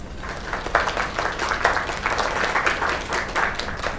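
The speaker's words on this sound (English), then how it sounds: "Another round of applause." Audience applause after a singing performance, dense continuous clapping from a crowd at steady, lively intensity.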